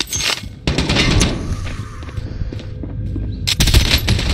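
Automatic gunfire in the Warzone video game, loud rapid bursts of shots with a short lull between volleys, close and continuous across the moment.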